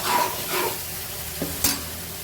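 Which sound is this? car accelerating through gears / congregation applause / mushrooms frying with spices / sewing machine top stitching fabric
mushrooms frying with spices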